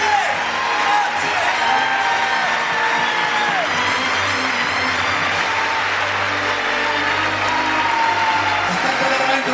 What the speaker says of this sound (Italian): Ancora un applauso!